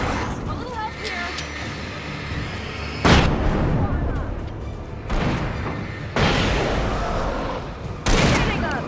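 Gunfire in the video game Alan Wake: heavy bursts of shots and booms erupt in loud waves roughly every couple of seconds over a constant roar of battle, with a voice shouting amid the noise.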